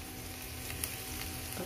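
Soy sauce hitting a hot pan of shrimp and butter gives a steady, close sizzle with faint stirring scrapes over a short stretch, and no one talks.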